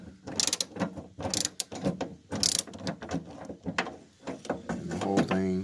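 A ratchet with a swivel and 12 mm extension loosening nuts in the interior of a 1987 Chevy Celebrity Eurosport, giving rapid close clicking bursts in uneven runs with short pauses between.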